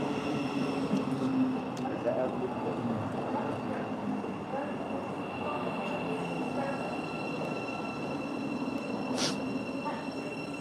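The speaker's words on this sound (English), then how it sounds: "Okay, this is the train I was waiting for." A train rolls into a station platform with a steady rumble of wheels and carriages, a faint high squeal near the end and station hum, heard close with continuous bustle and no clear talk.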